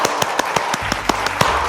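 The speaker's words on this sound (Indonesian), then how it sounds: "Tepuk tangan dulu dong buat kids." An audience at a children's church service claps in a brisk, regular rhythm of sharp beats, close and fairly loud, with a low rumble underneath.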